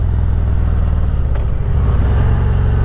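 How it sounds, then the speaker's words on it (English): A motorcycle engine rumbles loudly and close by, a deep, steady idle with a throaty pulse that holds constant throughout. "there are many aspects about this motorcycle I really enjoy, particularly that sound."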